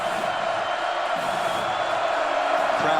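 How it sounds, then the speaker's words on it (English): Stadium crowd at a college football game between North Dakota State and Kansas State, a steady roaring cheer from a large distant crowd, continuous for the whole moment. "Crowd's up and alive."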